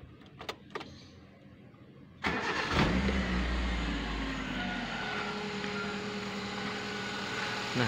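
A Kia Visto Zipdrive with a 1000 cc engine cranks and starts after a few faint clicks, then settles into a steady, smooth idle heard close up with no talking.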